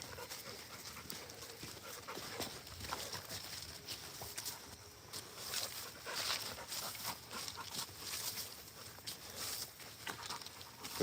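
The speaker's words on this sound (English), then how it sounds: "The elusive Rottweiler K9 Maximus." A Rottweiler moves about outdoors, its footfalls and panting breaths forming a steady, close, fairly quiet patter with no talk over it.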